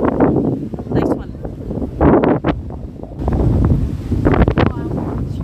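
Wind gusting outdoors and buffeting the microphone in loud, rough bursts, with voices talking under and between the gusts.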